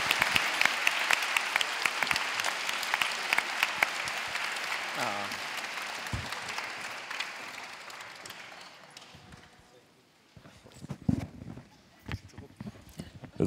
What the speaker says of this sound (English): but you can also applaud them because this is a great team.